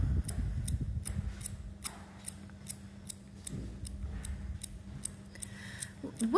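Small, sharp-tipped scissors cut hair during a haircut: a steady run of about a dozen crisp, close snips at an even rhythm, with faint handling noise and a soft thump at the start.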